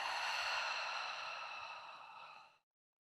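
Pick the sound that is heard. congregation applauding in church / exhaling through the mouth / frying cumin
exhaling through the mouth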